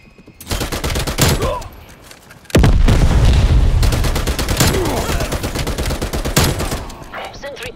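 Loud gunfire in a Call of Duty: Black Ops Cold War Demolition match on the Rush map, rapid shots and heavy booming blasts in dense clusters, with a Tec-9 firing; a voice talks over part of it.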